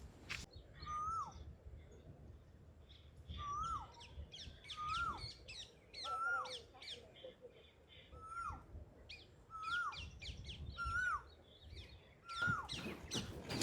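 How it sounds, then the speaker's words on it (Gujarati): A koel calls repeatedly in Botad village countryside, giving a clear rising whistle every couple of seconds, moderately distant, with other birds chirping faintly around it. "મસ્ત મજાની કોયલ ટવકા કરે છે."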